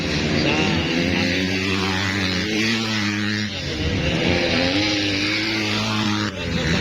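A racing motorcycle engine revs hard at full throttle in a drag race, a loud sustained roar with shifting pitch that dips briefly and climbs again, with crowd noise and a voice underneath.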